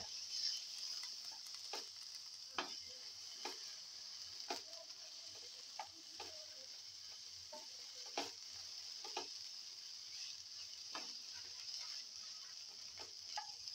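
Okra, peanuts and sesame being stirred in a pan over a steady, low sizzle, with a spatula scraping and tapping against the pan every second or so, close and fairly quiet, with no voices.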